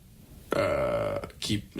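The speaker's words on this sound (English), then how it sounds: "there's a burp in there. It's just trying to get out." A single drawn-out voiced burp lasting under a second, loud and close, followed by a short voiced sound that could be a word or a second small burp.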